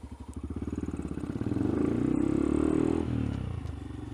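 Motorcycle fitted with a new sprocket combo, ridden on a road, its mid-pitched engine chugging steadily and then swelling louder as the rider opens the throttle before easing off near the end, close and continuous with no talk.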